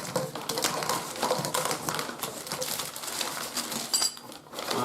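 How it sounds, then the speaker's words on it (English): Plastic packaging on a bath waste kit is cut open with a blunt-ish blade, giving a quiet run of close, crinkling snips and rustles with small clicks. "So we're going to cut the plastic."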